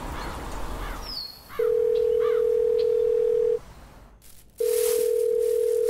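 A telephone ringing tone sounds for an unanswered call, two long steady buzzing tones separated by a pause, with faint birdsong and background noise before and between them.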